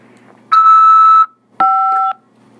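An automated collect-call phone system from a corrections facility sounds two loud electronic beeps: a longer steady tone, a short pause, then a slightly shorter second tone, alone without talk.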